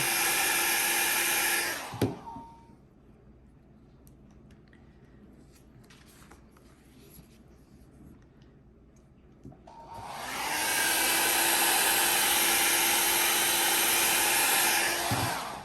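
A loud, steady hair dryer roars while drying alcohol ink art, cuts out for several seconds of quieter room noise with faint handling sounds, then switches back on at full blast.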